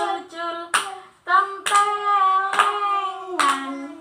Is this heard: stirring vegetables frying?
no